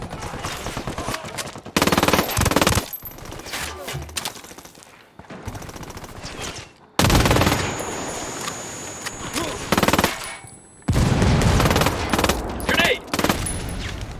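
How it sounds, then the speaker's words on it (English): Bursts of automatic gunfire and single shots trade back and forth between rebels and cartel fighters in Ghost Recon Wildlands, loud and close, with short lulls between volleys. "Got some rebels trading shots with the cartel."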